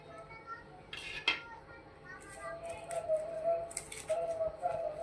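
A spoon scrapes and clinks against a metal pan or bowl while chili, salt, sugar, coriander powder, turmeric and amchur powder are mixed into a ground masala paste, with irregular taps and rattles close by.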